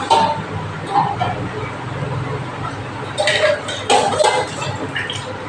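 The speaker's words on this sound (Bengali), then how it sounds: "খুন্তি দিয়ে এবার আমি একটু ভালো করে নেড়ে দিচ্ছি।" A spatula scraping and clinking against a pan while small mixed fish are stirred, intermittent metallic scrapes in bursts with quiet background noise between.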